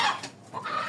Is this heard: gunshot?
no